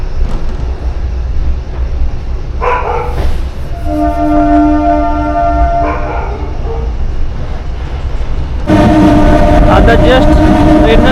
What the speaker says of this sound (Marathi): आता जस्ट ट्रेननं स्पीड पकडला आहे.